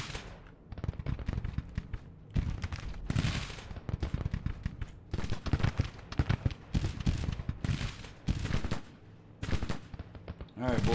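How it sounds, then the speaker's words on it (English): A Williams gun firing in the Grand Tactician: The Civil War strategy game, with loud rapid volleys and rolling bursts of gunfire in repeated waves, someone talking over parts of it. "Let's get this Williams gun firing here."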